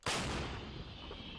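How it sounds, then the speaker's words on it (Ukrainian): A single loud, booming artillery gun blast fires a shell at once and then rolls away in a long, heavy rumble with no voices. "Постріл!"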